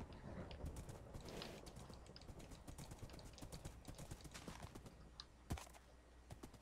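Horse hooves clip-clop faintly in a video game, a quick uneven run of light knocks with a sharper thud near the end.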